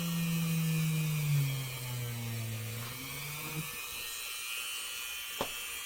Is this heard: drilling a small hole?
yes